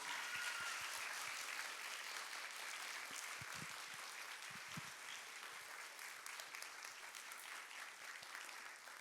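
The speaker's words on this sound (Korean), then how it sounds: "우리 나오실 때까지 박수로 환영하겠습니다" A church congregation at a Thursday evening worship service claps in welcome, with steady sustained applause at moderate distance that slowly thins toward the end.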